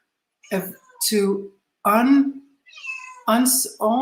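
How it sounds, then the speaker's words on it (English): A cat meows several times close by, short separate calls with pauses between them and no talking. "If you can hear a cat meowing,"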